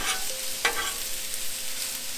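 Onions and green peppers cook in a pan for a healthy chicken Philly cheesesteak, giving a steady, moderately loud sizzle with a brief stirring scrape partway through and no talking.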